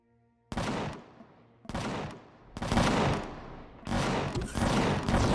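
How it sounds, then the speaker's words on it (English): Bursts of gunfire from guns in the space survival game Empyrion on hard mode, fired at monsters: four loud, sharp volleys in close succession, each starting abruptly and decaying, with no talk. "Guns are probably shooting at monsters."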